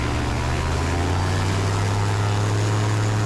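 A taildragger airplane's piston engine and propeller run at full takeoff throttle on a paved runway, a loud, steady, close drone with a strong low hum that holds without pause.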